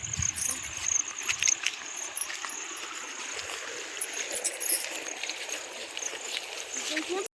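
Water gushes through a field channel near a forest, a continuous rushing, trickling flow with splashy texture and faint voices in the background.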